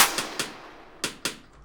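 Drum samples soaked in real-space reverb from stock Fruity Loops impulses: four sharp percussive hits in an uneven pattern, each with a long decaying room tail, loud and alone.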